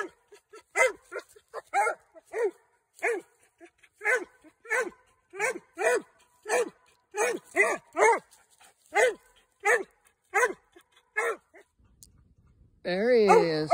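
A hound dog bays repeatedly at a young raccoon up a tree, with loud, evenly spaced barks about every second close by. A voice breaks in briefly at the end.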